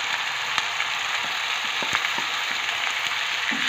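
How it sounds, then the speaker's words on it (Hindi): Garlic, ginger and green chili paste sizzles steadily in a pan for urad dal, a loud even frying hiss with occasional soft clicks of a spoon scraping and stirring. "ये लहसुन और अदरक सब्ज मिर्च का पेस्ट जो है ये 1 मिनट से फ्राई हो रहा है"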